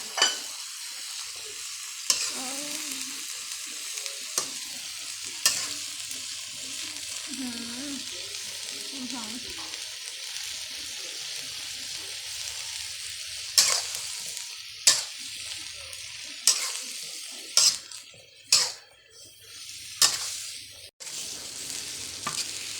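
Mixed vegetables and pork stir-fried in a pan during rain, with a steady soft sizzle broken by sharp metallic scrapes and clanks of a spatula, plus a faint hum early on.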